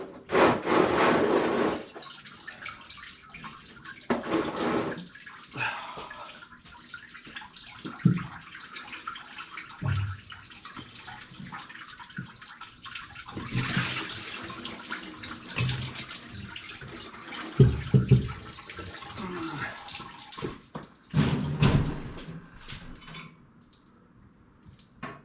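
Fluid pours out of a 360 Turbo Valiant engine in a splashing stream, with bursts of gushing and dripping that rise and fade over a long stretch in a workshop.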